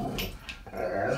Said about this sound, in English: And there's my puppy dog. Has to be barking.